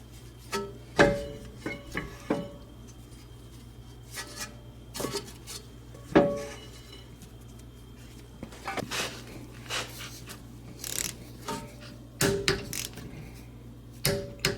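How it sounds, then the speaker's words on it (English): Torque wrench clicking as front caliper bolts on a Toyota Sienna are tightened to spec, several sharp metallic clicks and clanks scattered irregularly over a steady low hum, close and fairly loud. "As you can hear, the torque wrench clicked."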